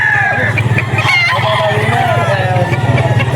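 Stag roosters crow loudly and close at a busy pet market, several overlapping crows over a steady pulsing background of clucking fowl and crowd noise.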